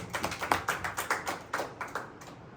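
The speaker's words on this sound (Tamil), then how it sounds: "கைத்தட்டி ஆண்டவரை மகிமைப்படுத்தும்" A church congregation claps in praise during a Holy Trinity Sunday service, a fairly quick, even rhythm of about a dozen sharp claps from a group, slightly distant and faint, with no voices.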